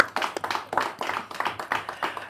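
An audience at a French-language talk show in Benin applauds a guest, with quick, fairly loud rhythmic clapping in close bursts.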